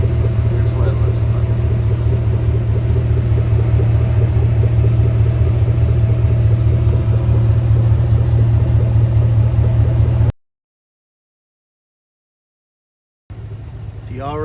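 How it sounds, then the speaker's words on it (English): A Chevy Silverado with a 5.3 engine and a Carven R catback exhaust idles with a steady, deep, loud rumble, then the sound cuts to silence before resuming briefly. "a little idle and a rev video of the new exhaust system on the truck"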